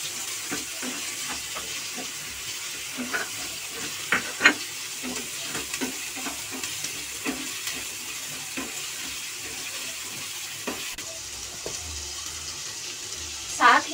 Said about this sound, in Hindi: अब मैं इसमें एक प्याज डाल दूंगी, ये मैंने बारीक टुकड़ों में कट कर रखा है।